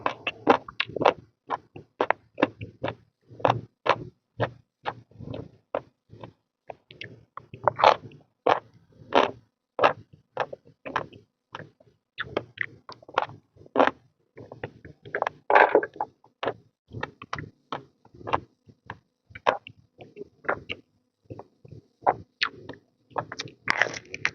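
Crunchy fried fermented fish eaten with fresh chilies gives a rapid series of loud, close crunches and bites, repeating in an irregular chewing rhythm for the whole stretch.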